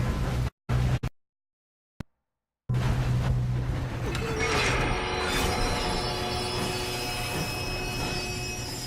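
A train rolls on rails during a train robbery in Red Dead Redemption 2. After a few clipped bursts and silent gaps, a loud continuous rumble of wheels and carriage noise sets in, with metallic squealing tones rising above it.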